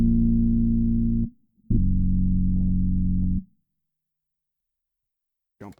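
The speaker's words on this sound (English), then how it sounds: "a thick sine wave type of sound, something without a lot of detail in it" Thick, plain sine-wave synth tone from a Future Impact V3 bass-triggered synthesizer, played as two sustained low notes with a short gap between them, clean and steady with little detail, followed by silence and a brief faint blip at the end.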